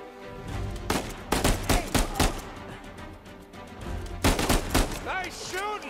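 Gunfire in the video game Uncharted 4: several sharp bursts of shots in quick clusters, fairly loud, with game dialogue and voices in between.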